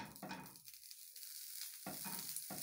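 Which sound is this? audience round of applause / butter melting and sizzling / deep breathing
butter melting and sizzling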